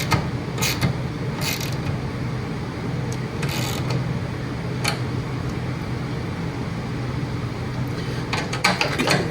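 Someone tightens a part while fitting a fish finder to a Quintrex boat, producing several short creaks and squeaks in bursts over a steady low background hum.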